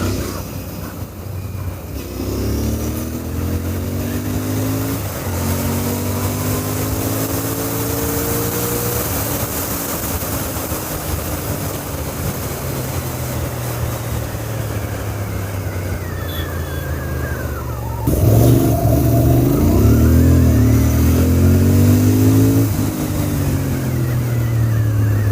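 A Royal Enfield Interceptor 650 motorcycle rides along with a steady, loud exhaust drone and rising-and-falling engine tones, growing louder and deeper near the end as the revs change.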